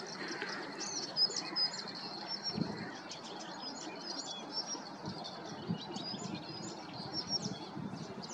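Small sandpipers call with faint, high chirps and tweets scattered over a steady outdoor background at a lake, distant and soft with no talk.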